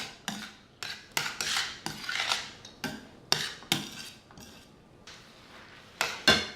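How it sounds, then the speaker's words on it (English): A utensil stirs and scrapes noodles in a pan back on the heat, giving sharp, irregular metallic clinks and scrapes, close and fairly loud, with brief pauses between strokes. "stir this up."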